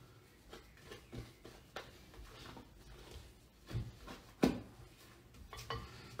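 A spatula scrapes and taps through chocolate mousse mixture in a bowl, quiet, irregular strokes with a few sharper knocks.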